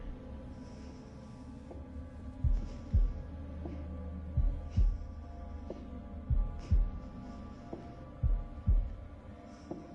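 Slow, evenly spaced double heartbeat thumps from the horror video game The Devil In Me, hotel setting, pulsing low and heavy over a steady dark ambient hum.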